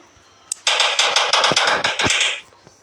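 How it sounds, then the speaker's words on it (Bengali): Machine gun fire in the video game Indian Bikes Driving 3D: a loud, rapid burst of shots lasting close to two seconds, set off by a single sharp report just before it, with no talk. "তো ওই জায়গায় মেশিন গান রয়েছে, তো চালাই।"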